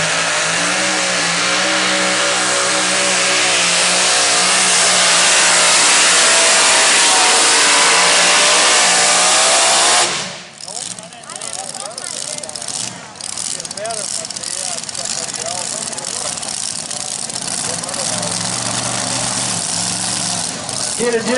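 A Pro Stock diesel tractor at a tractor pull roars loudly at full throttle for about ten seconds, then cuts off abruptly, leaving lower rumbling engine noise and crowd ambience.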